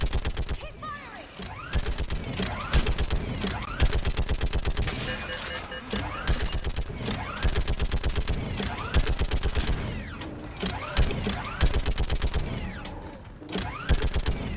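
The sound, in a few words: gunfire in the video game Mass Effect 3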